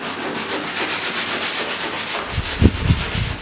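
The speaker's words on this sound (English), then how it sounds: "Jacob, why don't you go ahead and just sand that paint right there and right there out so we can get that stud nail to work on it" Sandpaper rubbed by hand over painted sheet metal on a 1966 Mustang body line, 80 grit, producing a steady rhythmic scratching close up, with a few heavier scuffs near the end.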